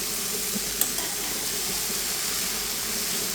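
Kalmi greens stirred into spice paste frying in a pan for a tilapia-head curry, a steady close sizzle and hiss with a brief clink of a utensil early on, no talk.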